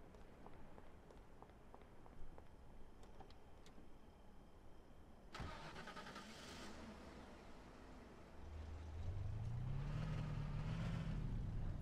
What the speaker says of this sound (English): start up the bolt thrower and just drive forward to pick him up